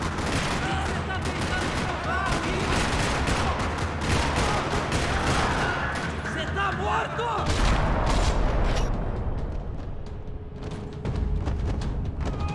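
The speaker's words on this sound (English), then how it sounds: "Another parking lot rattling with gunfire." Dense bursts of gunfire rattle across a parking lot in the video game Max Payne 3, rapid overlapping shots and automatic fire filling the scene, easing slightly near the end.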